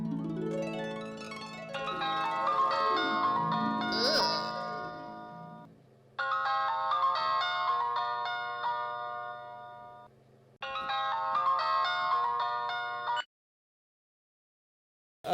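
A mobile phone ringtone chimes in bright repeated bursts as a call connects, three melodic phrases separated by short pauses, playing alone before cutting off.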